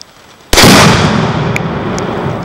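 A third of a pound of binary explosive goes off outdoors with a single sharp, loud blast, and a long rumbling roar trails away behind it. A few faint pops follow as the echo dies out.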